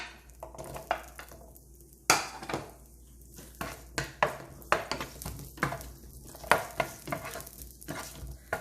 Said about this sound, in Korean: 버터를 서서히 녹여 주시고 살짝만 볶아 주시면 돼요. 자, 제일 먼저 양파.